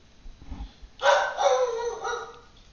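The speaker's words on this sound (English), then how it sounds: "You can hear my dog barking in the background." Indoor dog named Mike giving a short, excited burst of barks that trails into whimpering yips, heard at a moderate distance after a quiet moment.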